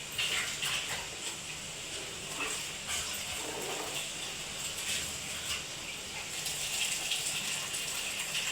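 Water gushes and splashes steadily into a cooking pot in a home kitchen where a curry is frying, a continuous hissing pour with no voices.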